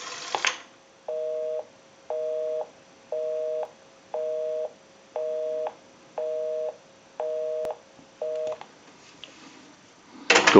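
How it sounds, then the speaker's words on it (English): A repaired Western Electric 233G three-slot payphone gives a brief tone, then a short burst of dialing, then a busy signal repeating in nine even on-off pulses, ending with a clunk as the handset is handled. "Now we can give you some dial tone and we'll call my number and it'll be busy."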